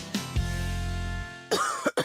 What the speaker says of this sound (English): I can't sleep with this cough.